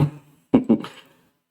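A fading tone, then three quick growling dubstep synth pulses made in Sytrus, each with a throaty, vowel-like wobble, fairly quiet and without speech.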